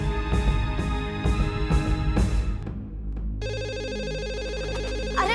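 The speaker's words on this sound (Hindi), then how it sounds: "अरे फोन आ रहा है।" Indoor scene of a serial drama: a telephone ringtone starts partway through and repeats its electronic melody steadily after a burst of clattering and muffled voices.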